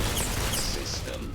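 Gunfire in the space shooter game Starfield, during a Crimson Fleet pirate mission, dense and continuous across the whole moment, with a voice talking over the shots.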